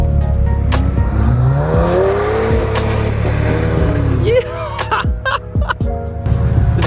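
An all-wheel-drive Audi on wet ground is revved hard for a burnout, its engine rising and falling with squealing tires and rushing spray. Loud and close, with a brief dip near the end and voices talking over it.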